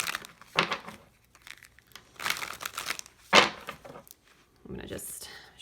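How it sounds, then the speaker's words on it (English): Tarot cards being shuffled by hand, with a few bursts of papery riffling and crinkling spread between pauses, close and moderately loud, with some voice in the background. "I'm going to just shuffle these here so I don't knock the camera over"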